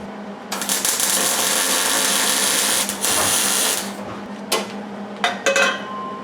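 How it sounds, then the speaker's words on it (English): Welding on the body of a 1953 Buick: a loud, steady crackling buzz of the welder running for several seconds, then stopping, followed by a few short metallic clanks and taps close by. "All right, here we go, welding it up."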